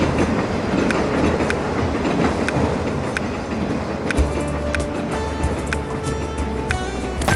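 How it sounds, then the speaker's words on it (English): Trains rumble and clatter continuously in the TrainStation 2 mobile game, with rhythmic wheel clicks and a steady rolling roar. A sustained tone rises near the end. The sound fills the scene without any talk. "Those trains are just noisy."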